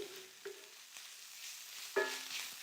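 Cheesesteak steak browns on a griddle with a quiet, steady sizzle. It is broken by a few light scraping and stirring knocks, one louder clack near the end, and no voices.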